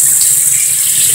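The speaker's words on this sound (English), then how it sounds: "I wonder if this running water still works" A water tap runs in a zombie survival video game, a steady, loud and close rushing hiss with no speech.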